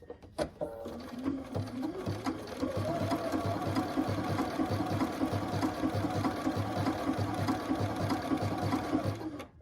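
An embroidery sewing machine stitches out a shamrock applique with a steady, fast mechanical chatter that starts after a few clicks and runs on at even volume nearby.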